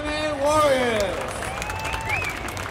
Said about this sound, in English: Ladies and gentlemen, give a round of applause for these two MMA warriors